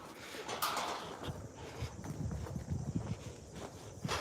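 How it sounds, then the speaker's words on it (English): Hooves of a thin, underweight horse being led in clop steadily and fairly close, with an uneven walking rhythm over low background noise. "we got a horse coming in"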